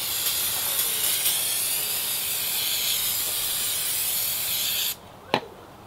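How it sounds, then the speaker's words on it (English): Brake cleaner sprayed from an aerosol can onto a brake rotor during a pad and rotor job on a Genesis sedan, a long steady close hiss that stops abruptly, followed by a single sharp clank. "So you really have to go at it with brake cleaner."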